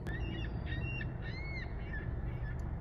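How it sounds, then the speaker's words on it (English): Birds chirp outdoors in short, faint, high calls scattered over a constant low background rumble. "The birds are chirping a lot today."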